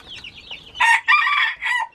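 Broiler chicks outdoors make a few close, bright clucking and cheeping calls in short bursts, with softer peeping before them.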